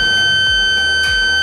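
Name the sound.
alarm of a biosafety cabinet when sash is pulled too far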